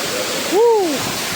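A steady rushing roar of falling water fills the clip, with a brief rising-and-falling tonal whoop near the middle.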